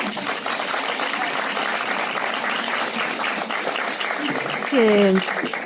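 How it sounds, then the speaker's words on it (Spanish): Steady crowd applause fills the whole stretch, dense and even, with a brief vocal whoop rising near the end. "pues aplausos"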